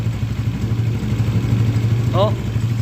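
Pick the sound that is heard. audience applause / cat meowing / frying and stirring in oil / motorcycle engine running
motorcycle engine running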